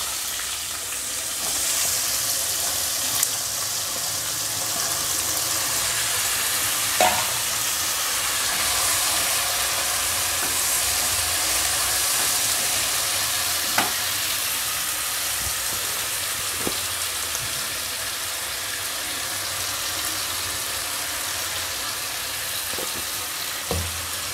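Onions frying in a pan with turmeric powder added, a steady close sizzle and hiss throughout, broken by occasional light scrapes and taps of stirring.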